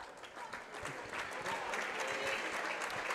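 Student section cheering at a Mt. Carmel Lady Aces high school girls' basketball game against Henderson County, Kentucky: a steady, dense roar of crowd noise and applause that holds loud and swells slightly over a few seconds.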